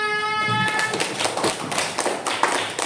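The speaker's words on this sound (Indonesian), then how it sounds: "Tepuk tangan." Schoolchildren in a classroom burst into a dense round of hand clapping after a brief pause, filling the room steadily for a couple of seconds at moderate loudness.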